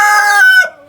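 A rooster crows in a chicken coop, one short, loud, close cry that ends abruptly.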